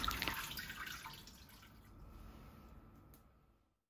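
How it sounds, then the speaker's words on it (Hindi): Water poured and drained from a bowl of soaked chickpeas in a home kitchen, a faint brief splash and trickle that fades out within a few seconds. "यहाँ पर चना भिगो कर रखा था मैंने रात में तो पानी चेंज कर देती हूँ"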